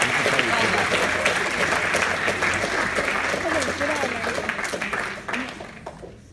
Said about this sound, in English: let's give all 5 of these people a nice round of applause.